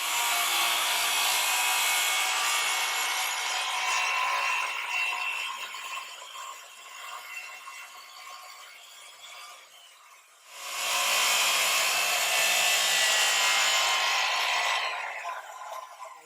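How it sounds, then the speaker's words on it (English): A saw cuts through the center of a blown plastic bubble top for a mini trike, giving a bright, harsh rasping buzz. It runs for about ten seconds, fades, then starts again loudly for several more seconds, with no talk. "Now we're going to cut the center of this out. Maybe with a jigsaw, maybe with the big saw."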